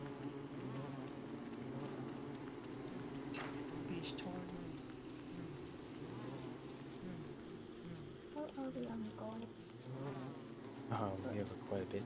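A swarm of bees in the video game Don't Starve Together drones continuously through the whole stretch, a dense, fairly loud buzz with chirpy game sounds near the end, and voices talking over the hum.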